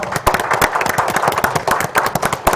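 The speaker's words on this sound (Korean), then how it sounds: "박수 한번 부탁드리겠습니다" Guests applaud after a group photo at an official Korean ceremony about livestock barn odor, sharp irregular handclaps from a nearby group, loud and sustained with individual claps standing out.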